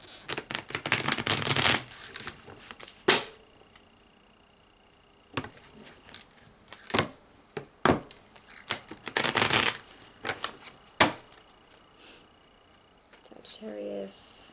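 A deck of tarot cards is shuffled by hand in several bursts of crisp riffling and flicking, each a second or two long, with quiet taps and card handling between them, close up and with no talk.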